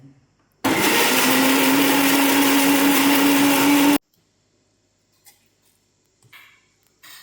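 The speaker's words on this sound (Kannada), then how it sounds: "ಫಸ್ಟ್ ಗ್ರೈಂಡ್ ಮಾಡ್ಕೊಳ್ಳೋದು ರತ್ನ ಸ್ವಲ್ಪ ಗ್ರೈಂಡ್ ಮಾಡಿದ್ದೀನಿ" A mixer grinder whirs loudly while grinding jackfruit batter, a steady high motor roar for about three seconds that cuts off abruptly, followed by quiet with a few faint clicks.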